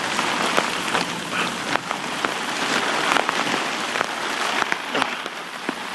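Heavy August rain in Piaxtla, Puebla, patters densely on nearby surfaces, a close, continuous hiss broken by many sharp individual drop impacts.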